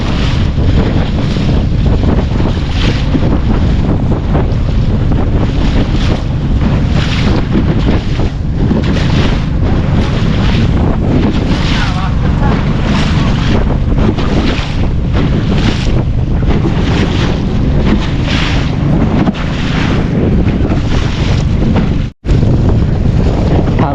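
Strong, abnormal wind roars loud and constant, with heavy wind buffeting on the microphone and a wash like waves or surf, broken by a brief dropout near the end.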